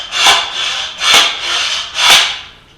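Three loud, evenly spaced scraping pulls of a slide hammer clamped with vise grips to a pilot bushing in a 4G63 engine core, each a harsh rasping stroke with short pauses between.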